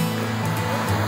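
River water running under a bridge near a waterfall, a continuous broad rushing wash with low rumble, close and steady for about a second, with no talking.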